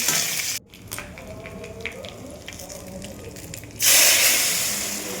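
Mung dal poured into hot oil tempered with dried chillies, bay leaf, panch phoron, cumin and ginger sends up a loud burst of hissing sizzle that softens, then swells into a strong steady fizz near the end.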